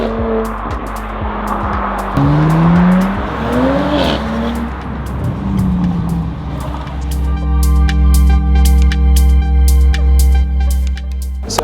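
An Audi RS4 with a custom ECU remap accelerates on a test drive, its engine revving hard through rising and falling pitches with brief tire squeal. It is loud and close throughout, with no talking.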